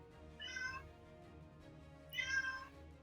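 A cat meows twice, each a drawn-out, rising plaintive call about two seconds apart, faint against a quiet room tone.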